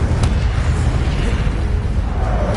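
Incendio fire spell cast in Hogwarts Legacy gives a steady, loud, roaring whoosh of flame with a low rumbling body and one sharp crackle near the start, holding at even strength throughout.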